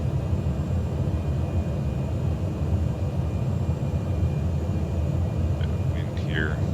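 Small aircraft flying along Lake Tanganyika in Africa toward a grass dirt runway, a steady broadband engine and wind drone from inside the cabin, continuous and fairly loud throughout.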